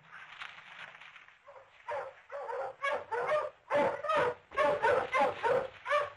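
A pack of hunting dogs is let loose for a deer hunt in the countryside. After soft yips they break into a run of loud, rhythmic barks and bays, close by and coming in quick repeated bursts.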